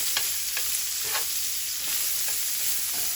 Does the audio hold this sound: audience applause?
no